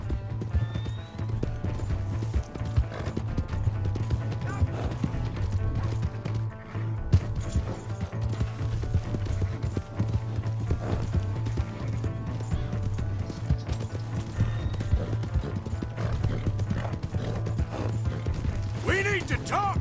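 Rhythmic hoofbeats of a galloping horse in Red Dead pound steadily beneath dense game music and effects, with occasional shouted voices.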